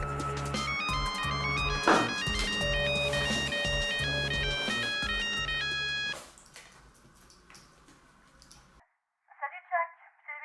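A mobile phone plays a bright, melodic ringtone for several seconds, then cuts off, followed by a short silence and a burst of quieter clicks or beeps.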